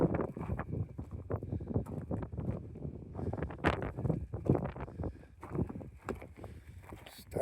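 Strong wind gusts buffet an outdoor tent, with bursts of rumbling wind noise rising and falling while someone talks intermittently.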